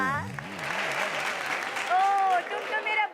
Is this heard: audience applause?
yes